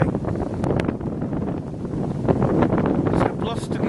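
Gusty wind buffeting outdoors on a blustery, rainy August day with trees moving, a steady broadband roar throughout with rougher gusts, loud and close to the microphone.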